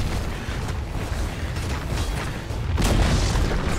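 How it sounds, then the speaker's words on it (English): A Dota 2 tower collapses with a deep boom and crumbling burst about two-thirds through, rising over constant battle noise and rumble. "Dire's top tower has fallen."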